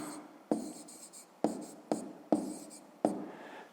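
Handwriting on paper as tree names are written out for a fifth-grade maths exercise: several short, close scratchy bursts of pen strokes separated by brief pauses in a quiet room.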